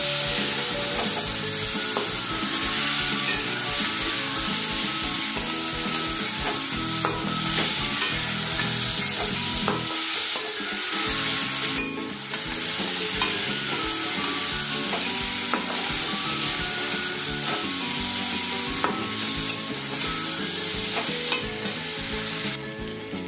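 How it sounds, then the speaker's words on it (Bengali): Ginger and cumin paste sautéing hard in a pan for a potato, pointed gourd and paneer curry: a loud, continuous sizzle broken by frequent scraping stirs, with no talking throughout. "এর মধ্যে দিয়ে দেবো আমি এবার এই যে আদা জিরে। তো এগুলোকে আমি খুব ভালো করে এবার কষিয়ে নেব।"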